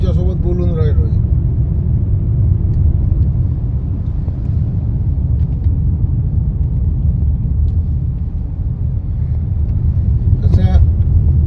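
A car driving on a road in the Konkan region, its steady low rumble running continuously throughout, with someone talking over it at the start and again near the end.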